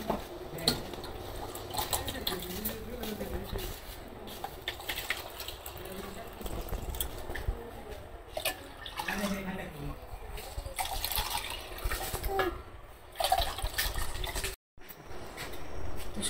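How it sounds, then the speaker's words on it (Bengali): Jaggery and a pinch of salt being stirred into cold water to make sharbat, with soft clinks of a spoon against a vessel and faint liquid sloshing, heard under ongoing talk. "গুড়টা ভালো করে মিশিয়ে নই, একটু লবণ দিয়ে দিই, এক চিমটি লবণ দিয়ে, আর একটু জল মিশাই"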